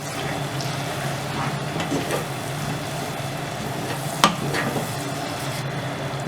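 Spices are stirred into beef curry in a pan, a steady soft sizzle and scraping with one sharp clink of the spoon midway.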